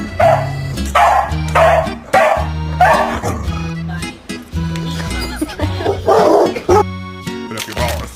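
A dog barks and yips repeatedly in loud, close bursts while being chased by a cat indoors, with a background music beat running underneath.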